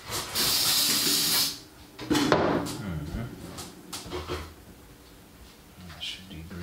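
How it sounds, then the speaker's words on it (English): Parts cleaner is sprayed onto sand-fouled gears in a loud, steady hissing burst, followed by faint scattered taps and handling noises. "Spray it with a little parts cleaner."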